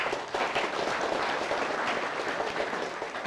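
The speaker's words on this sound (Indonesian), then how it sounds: "tepuk tangan untuk Iqbal." Audience at a school Ramadan short-course program applauding steadily, a dense wash of clapping sustained at even loudness throughout, no talk over it.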